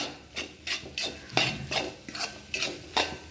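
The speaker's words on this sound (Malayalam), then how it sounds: "ഇങ്ങനെ നമ്മൾ തുടരെ ഇളക്കിക്കൊണ്ടിരിക്കണം" Curry is stirred in a cooking pan with a utensil, giving about eight rhythmic scraping strokes, each a short rasp against the metal with a faint sizzle between them, and no talking.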